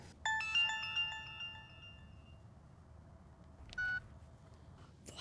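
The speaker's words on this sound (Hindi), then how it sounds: "नहीं उठा रहा है वो फोन" A phone call rings out with no one picking up: a sequence of tonal beeps and ring tones plays close and fairly quiet, with a second short tone burst a few seconds later over low background hum.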